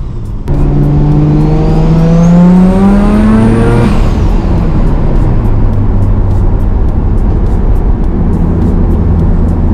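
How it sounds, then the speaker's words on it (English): A Mazda RX-7 FD3S rotary engine screams loudly through an Amemiya muffler, revving up sharply to a high whine, then settling into a steady roaring drone. "the screaming sound of a rotary at the Amemiya muffler"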